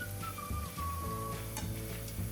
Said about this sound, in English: Toss and stir. Cook until the apples are soft and the filling thickens.